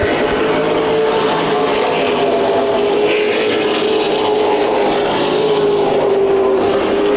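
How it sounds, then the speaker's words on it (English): Late model race cars at Irwindale Speedway roar in a steady, loud, sustained engine drone, with a pack of machines running together down the straightaway and no talk over them. "Now 3 high point racing cars into contact down the back straightaway."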